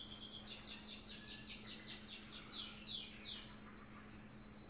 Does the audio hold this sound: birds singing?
yes